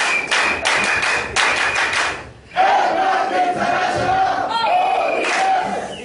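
A crowd at a motivational business talk performs a group clap with rhythmic, loud bursts of synchronized clapping and shouting, then a brief pause before a long collective cheer or chant rises and holds.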